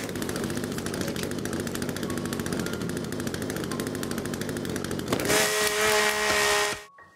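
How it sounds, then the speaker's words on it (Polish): A chainsaw in The Forest video game runs with a harsh, rapid buzzing drone that holds steady, then revs to a higher whine before cutting off abruptly near the end. "Najsilniejszą bronią w grze jest piła mechaniczna."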